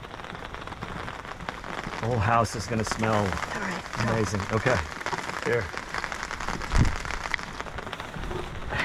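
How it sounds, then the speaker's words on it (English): Rain falls outdoors in a garden, a steady patter on surfaces heard throughout, while people talk nearby over it. "We're getting some beautiful rain."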